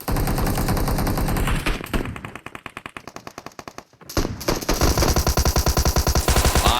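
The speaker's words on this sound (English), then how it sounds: "A lot of shots in booty camp as Usoon is trying to get the loot here." Rapid automatic gunfire from PUBG Mobile battle royale play at the Bootcamp area, dense bursts of shots that thin out briefly midway before resuming loud and continuous.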